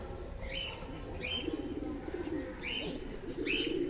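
Pigeons in a bird loft give soft, repeated cooing calls in a steady rhythm, fairly close and moderately quiet. Faint chirps and rustling sit underneath.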